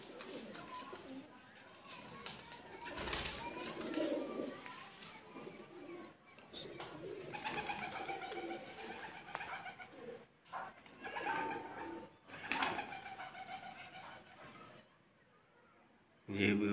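Pigeons in a loft of birds kept for breeding, some sitting on eggs, coo in repeated soft rolling phrases, close by and fairly steady. Someone talks over them.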